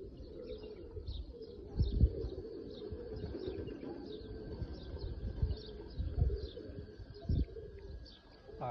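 Several Oman Teddy pigeons coo continuously in a loft, their low throaty calls overlapping with faint chirps and a few soft thumps of movement nearby.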